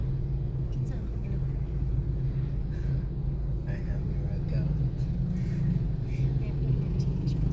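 Dense road traffic in Davao rumbles on steadily, a continuous low engine drone from many passing cars and motorbikes heard from nearby, with no clear single vehicle standing out.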